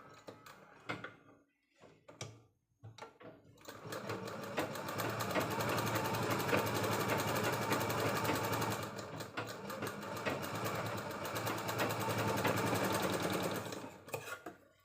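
Sewing machine stitching a blouse sleeve: a few short starts and stops, then a long continuous whirring run with a brief pause near the end, close and fairly loud, no talking.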